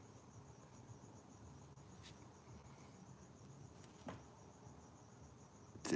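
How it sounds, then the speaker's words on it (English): Crickets chirp steadily outdoors on a mild Los Angeles night just after the rainy season, a high, thin continuous trill that stays faint and even, with a few soft clicks and no voices. "The crickets sound so nice right now."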